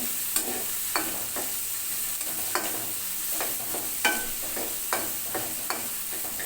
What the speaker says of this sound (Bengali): চিংড়ি মাছটা কিন্তু আমার মোটামুটি ভাজা হয়ে গেছে